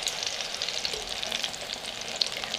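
Battered chicken breast with smoked paprika sizzling steadily in a hot pan, a constant crackling hiss with occasional sharper pops, close and fairly loud, no talking.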